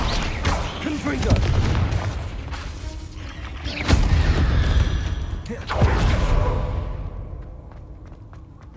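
Fire-blast spell explosions in the video game Hogwarts Legacy on PC, several booming bursts with rumbling decay mixed with game effects and footsteps, loud and close.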